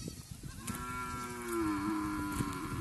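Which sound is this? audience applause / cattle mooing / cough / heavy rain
cattle mooing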